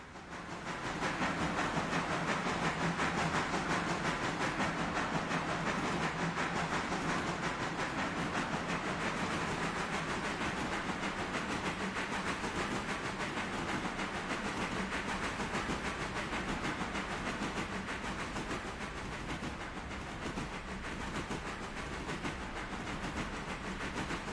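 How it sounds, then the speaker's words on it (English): A steam locomotive in Railroader rolls along the rails in a steady, continuous run, a broad hissing rumble with faint rhythmic clicks and no voices. "Go for a nice brisk ride on the back of the loco."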